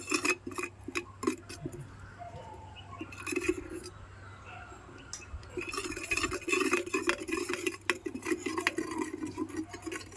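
Spoon scraping and clinking against a cooking pot while green chilli pulusu is mixed, with scattered metallic taps and knocks over a low steady hum, no talk.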